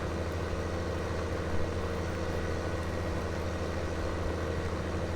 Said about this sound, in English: this tractor really does sound nice with its chrome straight pipe on it.